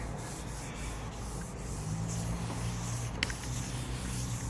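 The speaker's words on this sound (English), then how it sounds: "So I'm going to rub it in." Mineral oil rubbed by hand into a wooden cutting board makes a soft, continuous close-up rubbing hiss that stays even throughout, with one small tap near the end.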